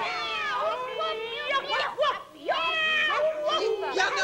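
Children's voices imitating cats, a chorus of overlapping high, wavering meows from several kids at once, close and lively, with brief dips between bursts.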